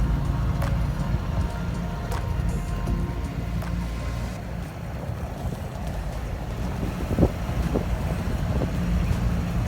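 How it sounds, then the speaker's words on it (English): Steady wind buffets a boat off Ponce Inlet near New Smyrna Beach, a constant rushing roar with heavy low rumble and a few gusting peaks, with no voices. "Ponce Inlet gave me some wind right there."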